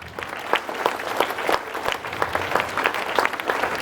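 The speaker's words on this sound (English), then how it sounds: "So let's give all of them a round of applause." Students and staff at a school assembly clap for skit performers, a lively round of many hands with sharper individual claps standing out, steady and close, with no talking over it.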